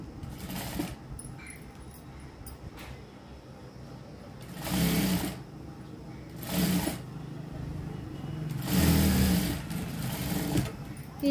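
An electric sewing machine stitches frills onto a knee-length frock in three separate whirring runs, each a second or two long, with quieter gaps between them.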